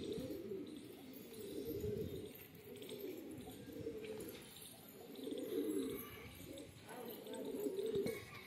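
Pigeons cooing close by in a pair of soft, throaty bursts that repeat and swell, the low murmuring calls continuing with faint background noise around them.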